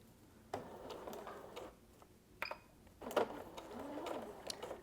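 Sewing machine stitching a foundation paper-pieced quilt block, short bursts of rapid ticking stitches with pauses and small clicks between, quiet and close.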